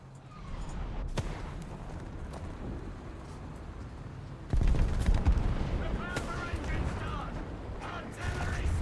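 Gunfire in the Arma military game rolls in as a mix of distant and nearer shots and heavier bursts, with a dense burst of firing partway through and a voice talking over it.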